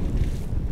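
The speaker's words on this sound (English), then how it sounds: "Windy." Wind blowing across a small lake during late-summer crappie fishing, a brief steady low rumble of gusts buffeting the microphone, with no talking.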